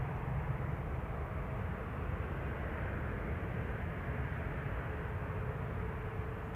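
An Aer Lingus ATR 72-600 turboprop arriving from Belfast at Manchester Airport, a steady low engine rumble and broad roar at moderate distance, holding at an even level throughout with no talk.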